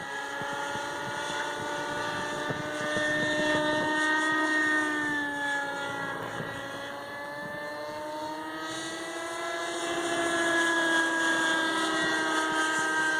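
A Kyosho Caliber 30 nitro RC helicopter engine screams at full throttle, a steady high-pitched whine with shifting rotor tones that sag slightly as the engine bogs under load, loud and continuous with wind noise.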